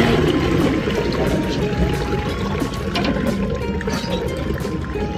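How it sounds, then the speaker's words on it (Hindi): Water is poured steadily into a home fish fountain during cleaning, a continuous loud splashing gush, close by, with people talking faintly in the background. "पानी वगैरह इसमें डाल दिया"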